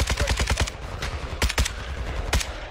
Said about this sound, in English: I actually kind of enjoy this, just shooting my gun really long range.